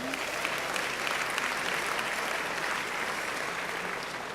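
Steady applause from an audience at an evening award ceremony, the LBJ Foundation's Liberty and Justice for All Award, filling the room with dense continuous clapping throughout.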